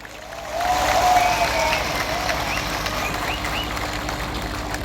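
A crowd at an election rally breaks into sustained applause that rises quickly and then holds steady at moderate loudness, with a low engine-like hum underneath.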